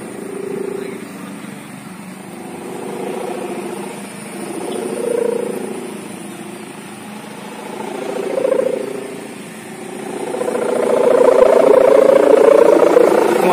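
A kite hummer (sendaren) droning in the wind, a wavering, pulsing tonal hum that swells and fades in repeated surges and grows louder toward the end.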